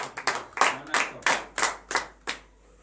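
A church congregation at a morning prayer service claps in acclamation to Jesus, about eight sharp, loud bursts of hand claps in an uneven rhythm, close by and with no talking over them.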